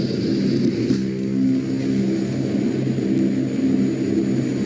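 Military jets such as F/A-18 Super Hornets launch on a calm, clear day over the Pacific, a steady loud rumbling engine roar holding throughout with no speech.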